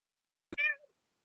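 A cat gives one short, clear meow close by, with a tiny soft onset before it and silence all around.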